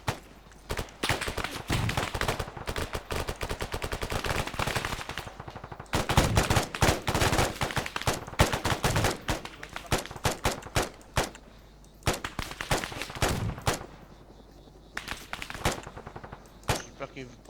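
Gunfire from a helicopter in the military video game Arma 3 comes in loud, rapid automatic bursts, with short pauses between them, across the whole clip.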